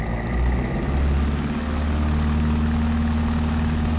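Light propeller plane on a flying-club takeoff roll at full power, a loud steady engine drone with a strong low hum and no talking.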